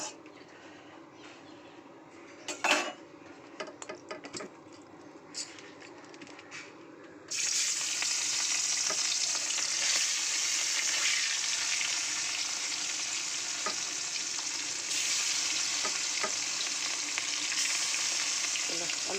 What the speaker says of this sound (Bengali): কড়াইতে বসিয়ে দিয়েছি তেল, এবার মাছটা ভেজে নেব।